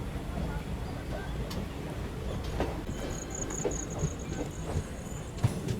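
Lucknow Varanasi Shuttle Superfast Express rolling along slowly with steady low rumble of wheels and carriage, a faint high squeal or whistle midway and occasional clacks, with some voices in the background.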